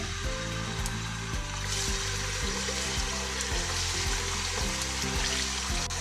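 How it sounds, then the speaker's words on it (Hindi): Camel meat frying in a pan for nihari, a steady close sizzle with a low rumbling bubbling beneath and periodic soft knocks throughout, no voices. "गोश्त को फ्राई कर लेंगे"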